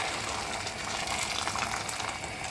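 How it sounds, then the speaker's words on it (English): Hot water pours steadily into a pot of dried beans for Turkish kuru fasulye, with a continuous close splashing rush and no talk. "I'm going to cover the surface of the beans with hot water"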